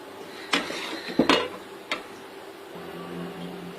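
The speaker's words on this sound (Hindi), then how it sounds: "अब ये डिश हमारी तैयार है, इसे हम डिश आउट कर लेंगे।" Mutton kaleji masala is served out of a cooking pot, with a few sharp metal clinks and scrapes of a utensil against the pot, then quieter clatter and a low background hum.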